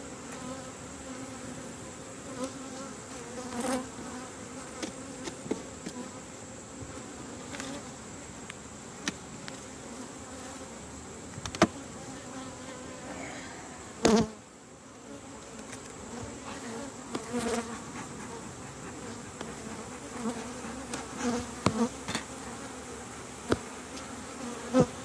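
Honeybees drone around an open, healthy hive full of brood and honey, a dense steady buzz close by with occasional louder passes and small knocks.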